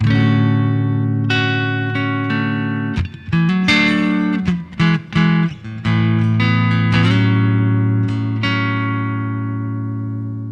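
Clean electric guitar through a Two-Notes ReVolt analog preamp, no amp, playing sustained chords and picked notes, loud and upfront with a natural ring, no effects, brief choppy pauses midway.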